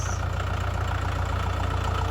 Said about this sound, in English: with the tractor wheels, and that tells us where our rows are going to go.